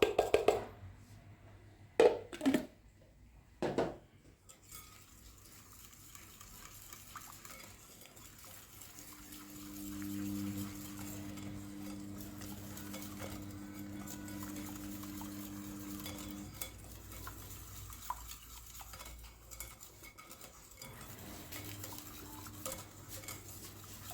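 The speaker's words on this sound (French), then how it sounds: "Donc on va mélanger tous les liquides ensemble" Liquid cake batter ingredients whisked together in a bowl for a cherry cake, a few clinks of utensil on bowl at first, then steady soft stirring and sloshing over a low background hum.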